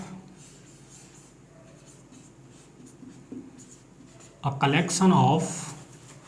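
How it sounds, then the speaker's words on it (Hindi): Marker or chalk scratching across a classroom board during a maths lesson, a quiet scraping under the teacher's speech that grows louder and busier near the end. "तो मैं यहाँ लिख देता हूँ"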